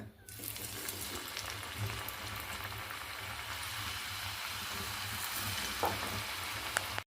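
Chakli frying in hot oil, a steady dense sizzle and bubbling that holds evenly throughout with faint occasional clinks.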